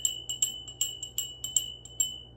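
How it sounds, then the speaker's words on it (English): A small handheld bell rung repeatedly in a quiet room, about ten bright metallic strikes in an uneven rhythm, each ringing clearly and decaying quickly, close and moderately loud with a faint low hum underneath. "ring my bell and clear that energy"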